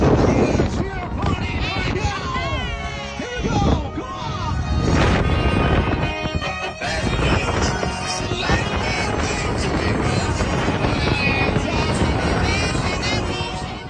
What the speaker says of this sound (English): It was windy, but it felt good.